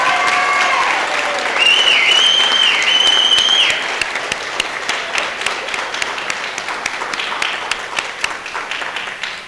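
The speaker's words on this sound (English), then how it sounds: "Let's give a big round of applause for Team in Sync" Loud audience applause at a school board meeting for a middle school student team, with a few whistling tones early on. The dense clapping then thins into scattered individual claps as it dies away.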